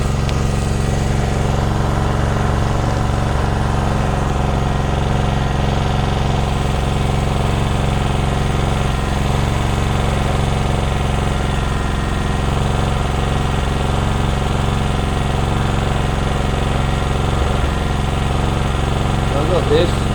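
An Ozito 2000W generator engine running continuously, a loud, steady, close mechanical drone with a rough idling rumble that holds unchanged throughout.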